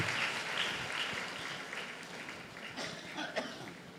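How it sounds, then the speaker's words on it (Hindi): A church congregation claps during a Sunday Lord's Supper service, a dense, steady patter of many hands filling the space at moderate volume and continuing without a break. "तालियां बजा के परमेश्वर धन्यवाद दे।"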